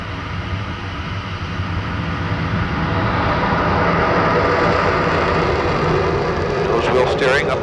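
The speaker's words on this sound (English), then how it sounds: "Full afterburner." The jet engines of a Lockheed SR-71 Blackbird roar at full afterburner on takeoff, a loud broadband rumble that swells steadily, with a brief voice near the end.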